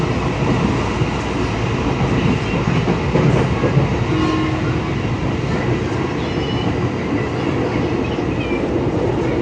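A KRL commuter train pulls into Duren Kalibata station, its steady loud rumble of wheels on rail running throughout with faint rhythmic clatter and a brief squeal of wheels.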